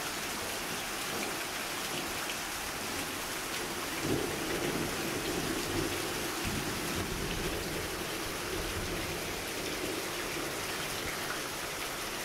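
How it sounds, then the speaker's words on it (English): Steady heavy rain pours down during a thunderstorm after a power outage, with a low rumble of thunder rolling in partway through, continuous and enveloping with no talking. "I can sit out here and watch the rain"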